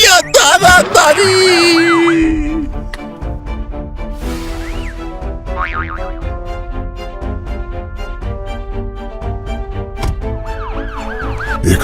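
A cartoon ambulance siren wails in rising and falling sweeps, coming and going in several bursts over steady background music with other cartoon sound effects.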